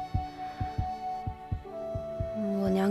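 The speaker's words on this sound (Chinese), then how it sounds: "这是心跳的声音。" Heartbeat thumping in a steady double-beat rhythm, several close, soft low pulses in a row with a faint hum rising underneath toward the end.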